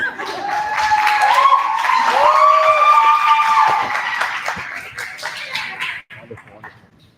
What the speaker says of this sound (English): Is that enough clapping for 16 years?